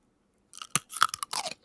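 Crunchy food being chewed up close: after a moment of silence, a burst of crisp crackling bites and crunches follows in quick irregular succession, fairly loud with no voices.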